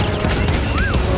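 Blaster fire from the Star Wars Jedi Fallen Order video game, a loud, dense burst of crashing energy shots with a brief descending whine, continuous through the short stretch.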